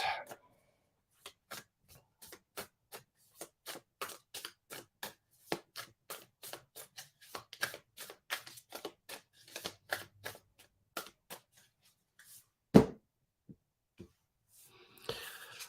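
Playing cards are shuffled close to the microphone in a quiet room, a long series of sharp crisp riffling snaps and taps in uneven rhythm, with one louder knock near the end.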